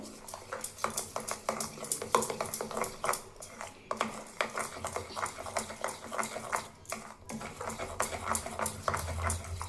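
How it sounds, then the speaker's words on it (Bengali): Kakrol pakora batter of gram flour being stirred after hot oil is poured in, a steady run of soft wet scraping strokes close by with light utensil clicks, no talk. "তেল একটু দিয়ে দেবো এতে দিয়ে ভালো করে নেড়ে নেবো"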